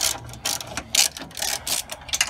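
A ratchet wrench clicks out a 1/2 inch radiator support bolt on a 2008-2014 Nissan Maxima, in short, rapid bursts of metallic ticking, close up with no talk.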